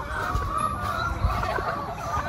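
A pet chicken at a teepee-style chicken coop clucks amid steady background noise, a few short low calls close by with a faint higher chirp, no talk.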